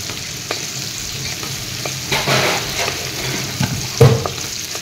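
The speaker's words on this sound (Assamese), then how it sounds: "ইয়াতে এতিয়া মই এয়া ফ্ৰাই কৰি থোৱা মাংসখিনি দি দিম এনেদৰে এফালৰ পৰা লৰাই দিম" Fried chicken pieces are stirred around a hot frying pan, sizzling loudly under scraping spatula strokes and a sharp knock near the end.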